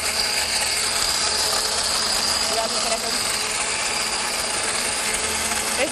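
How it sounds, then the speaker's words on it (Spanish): A blender runs continuously, whirring dense and loud as it blends adobo sauce of northern Mexican chiles, salt and vinegar, with no break for the whole stretch. "Vamos a licuar todo perfectamente."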